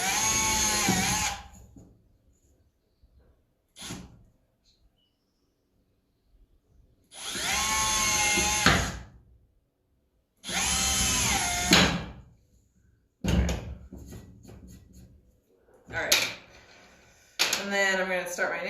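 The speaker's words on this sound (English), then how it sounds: "So I'm just going to pre-drill my holes." A power drill bores pilot holes in wood for a DIY step stool, several loud whining bursts of a few seconds each separated by quiet pauses, close up, with short stretches of other handling noise between them.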